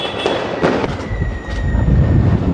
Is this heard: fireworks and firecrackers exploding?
yes